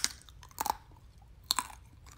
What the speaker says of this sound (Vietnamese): bây giờ mình sẽ thử cắn nguyên trái